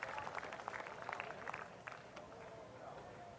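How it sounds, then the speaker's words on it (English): Crowd cheering and applauding at a Crankworx Whistler pump track after a rider's heavy crash, a steady mass of clapping and cheers that eases off slightly toward the end. "The crowd giving the love to Jayce Cunning."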